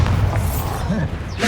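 A Bombardo spell explosion in the video game Hogwarts Legacy: a short, loud, deep boom with rumbling thuds, alongside a voice calling out.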